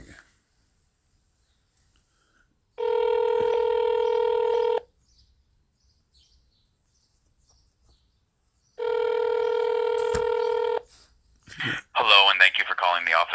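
Two long electronic telephone ringback tones, each about two seconds, separated by silence, followed by a recorded voice beginning to speak.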